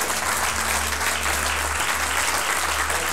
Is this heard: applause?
yes